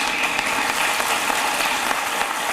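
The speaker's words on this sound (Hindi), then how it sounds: "एक बार जोरदार तालियों से उन्हें आमंत्रित करें" Dense, steady applause from an audience welcoming a poet onstage at a televised Hindi poetry recital, filling the whole stretch at full strength with no break.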